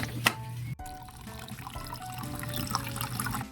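Water poured from a tap into a cooking pot for pork sinigang, a soft, steady running and trickling stream heard close by, opening with a sharp clank of metal before the flow settles in quietly.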